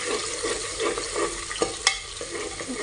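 Raisins, cashews, onion, garlic and cinnamon are stirred as they fry in a pan. A soft, steady sizzle runs throughout, broken by a couple of sharper scrapes and clinks from the stirring.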